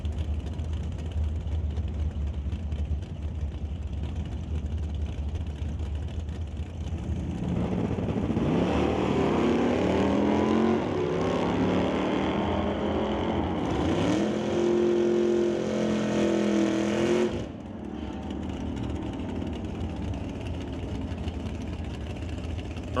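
A drag racing car makes a pass down the strip at an NHRA Northwest National Open Series Friday test-and-tune session. A loud engine roar swells and climbs for about ten seconds over steady track ambience, then cuts away.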